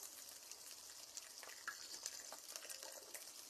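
Ginger paste fries and is stirred in a pan, a soft steady sizzle with light scraping strokes and a few brief clinks, quiet and close with no talking.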